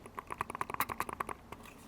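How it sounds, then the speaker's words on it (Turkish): Quiet clicks from a Havit KB835WB wireless computer mouse, a rapid run of about a dozen soft, close taps in an uneven rhythm, alone in a hushed room. "Mouse'un ses, klik sesini duyurmak istiyorum"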